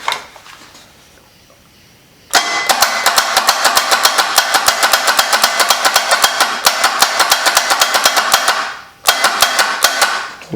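A 1974 Datsun engine on a homemade motorcycle trike cranks on a struggling starter in a loud, rapid, even rhythmic chugging, running about six seconds, pausing briefly, then resuming, close to the machine with no one talking.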